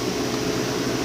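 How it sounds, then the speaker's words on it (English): Steady electric fan running in the background inside a room kept for tarantulas, a constant airy whir with a low hum, alone with no talking. "you can hear the fan going in the background."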